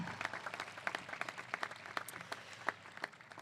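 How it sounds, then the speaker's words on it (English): Sparse, faint applause from a graduation ceremony audience, with scattered individual claps in an uneven rhythm rather than a dense roar, heard at a distance. "let's get a round of applause for that"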